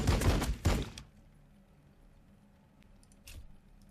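A burst of gunfire from Warhammer 40K Battlesector, two loud rapid volleys in the first second, then near silence and one more short shot a few seconds later.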